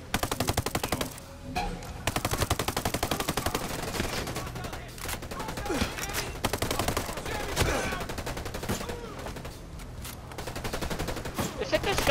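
Rapid, loud automatic gunfire in the video game Ghost Recon Breakpoint, dense bursts of machine-gun fire with scattered single shots continuing throughout, with voices occasionally underneath.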